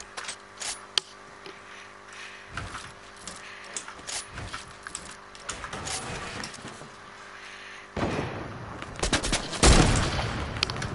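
Rapid video-game gunfire from a shooter match where the player is building metal structures, bursts of shots crackling throughout, growing denser and louder toward the end with a heavy barrage near the close; no talk.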